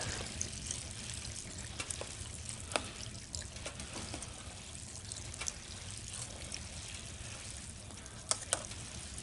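Lentil dumplings poured dry into a pot of water and stirred, a faint bubbling wash with scattered light clicks and swishes, close and with no talk.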